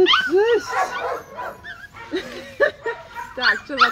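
Several mixed-breed puppies whimper and yip up close in a busy litter, high squeaky cries and short yelps coming in uneven bursts over a few seconds.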